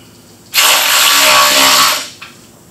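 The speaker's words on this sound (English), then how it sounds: "whenever bolting the tranny, motor and tranny together, I always like to take and run the bolt in a little bit" An air ratchet runs a bolt joining an engine to its transmission in a garage, one loud, close, steady buzzing whir lasting about a second and a half, then stopping with a short click afterward.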